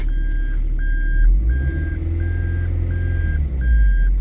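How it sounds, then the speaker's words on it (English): Steady reversing warning beeps from a Toyota MR2, about six evenly spaced high electronic tones over a low engine idle, close and clear with no talking. "you hear that horrible beeping like you're a blooming truck"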